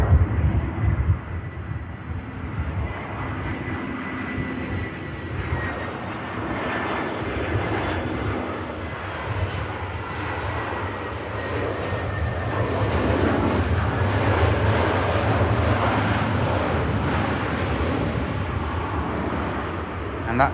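An airliner touches down at Manchester Airport, its engines a broad, steady roar that swells toward the end, heard from a distance while someone talks over it.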